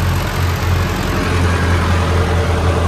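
Mahindra Arjun NOVO 605 4WD tractor engine laboring hard in a muddy soybean field while pulling a stuck old Swaraj 735 FE with trolley, a steady loud low rumble throughout with no speech.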